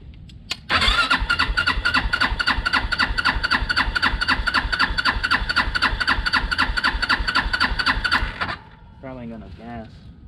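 An MSA 400 engine cranks over from a starter jumped across its terminals, a loud, fast rhythmic churning that runs for about eight seconds before stopping abruptly, followed by someone speaking briefly.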